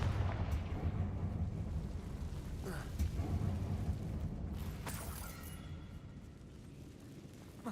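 A Confringo fire-blast spell cast in Hogwarts Legacy, heard as a sustained low rumbling explosion with crackling bursts, moderately loud and continuous for several seconds.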